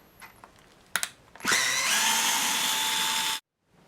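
A power drill backs out the neck screws on a 2001 Mexican-made Fender Telecaster, with a few clicks and taps before a single steady high whir that runs about two seconds and stops abruptly, close and alone.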